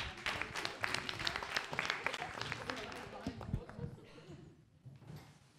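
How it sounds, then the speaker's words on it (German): A burst of applause, dense clapping from a crowd that stays strong for a few seconds, then thins out and fades away. "Bitte einen großen Applaus."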